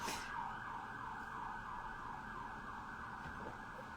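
An ambulance siren passes outside, its wailing tone sweeping up and down continuously at moderate volume over faint road noise, with no speech.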